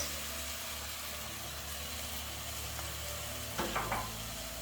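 Mince dropped into hot oil with chili powder and masala sizzles in a steady, close, broadband hiss, with a brief burst of stirring or clatter near the end.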